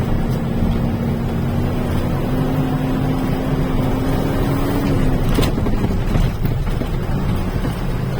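A truck's tires grind over a rough mountain road, a steady close rumble with an engine drone and wind buffeting, plus a sharper jolt about two-thirds through; no talking.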